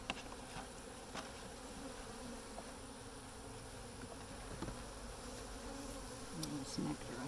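Honey bees buzz loudly and steadily around an open hive, a dense continuous drone with individual insects passing close by.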